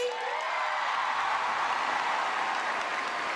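Steady, dense applause from a large concert audience, loud and unbroken throughout without any voices.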